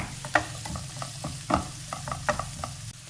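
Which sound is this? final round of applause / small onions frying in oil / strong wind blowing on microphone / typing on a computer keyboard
small onions frying in oil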